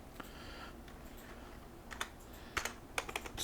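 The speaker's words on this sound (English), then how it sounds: "I'm simply going to move the mouse pointer up and type in the untitled video title box" Quiet, close keystrokes on a computer keyboard, sparse at first and then quickening into a short run of crisp clicks.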